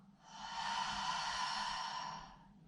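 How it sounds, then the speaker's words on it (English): A single long audible exhale during a yoga class, a soft breathy sigh that swells and fades over a few seconds in a quiet room. "Again, last time, inhale. Exhale."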